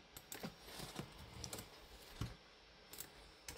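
A computer keyboard is tapped in a quiet room, with scattered single keystrokes and short bursts of clicks at an uneven pace, soft and fairly close.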